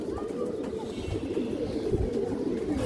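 Pigeons coo softly in a loft or coop, low repeated throaty calls running continuously under someone talking nearby.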